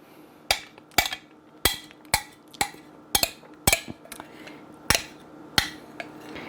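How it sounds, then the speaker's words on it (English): Keto blueberry muffins go into the oven with a run of sharp, close clicks and clanks from the tray and oven, about ten irregular knocks over a quiet background. "Now I'm going to put these in the oven."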